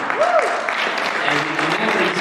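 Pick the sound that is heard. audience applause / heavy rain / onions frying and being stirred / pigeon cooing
audience applause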